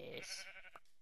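A sheep in Minecraft gives a short, clear bleat, a single wavering call on its own.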